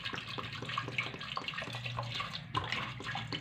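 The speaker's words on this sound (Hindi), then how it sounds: "इसमें मैंने तकरीबन 2 गिलास पानी डाला है।" Water runs steadily into a cooking pot of meat with onions, garlic and tomatoes for a curry, a continuous splashing stream with faint clinks, fairly close and with no talking.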